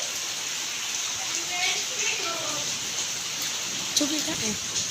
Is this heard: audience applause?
no